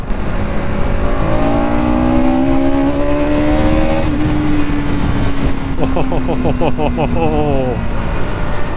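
A 2026 Bajaj Pulsar NS200 (E20) motorcycle engine hums steadily while riding, its pitch slowly falling and then rising sharply with a quick throttle blip. Loud wind rush runs throughout, and a rider talks over it.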